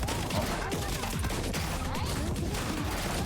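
Rapid gunfire and explosions from the mobile game Blue Archive, a dense continuous barrage of shots and impacts filling the whole stretch with no pauses.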